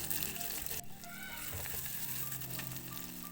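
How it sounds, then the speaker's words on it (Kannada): Onions fry in a pan for a village-style curd tempering, giving a dense, steady sizzle close by and unbroken, with no voices. "ಅದನ್ನು ಸ್ವಲ್ಪ ನೀಟಾಗಿ ಫ್ರೈ ಮಾಡ್ಕೋಬೇಕು ಈರುಳ್ಳಿನ."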